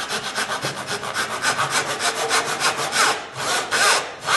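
A hand saw cuts kerf lines into wood for a groove joint with smooth, steady back-and-forth strokes, each pass rasping clearly and close, heard alone without talk.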